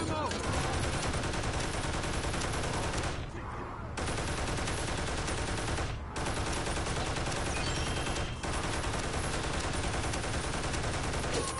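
Sustained turret gunfire in the toy-soldier war game Toy Soldiers: War Chest, a loud, dense and continuous barrage with only brief dips in intensity and no talking.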